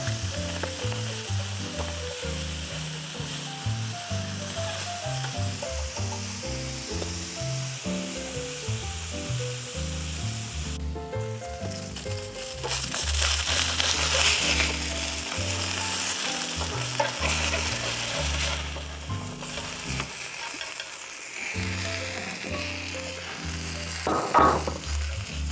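Salmon fillet sizzling and frying in a hot pan after being flipped, a steady crackling hiss that swells louder midway, with faint stirring and scraping over a background of music.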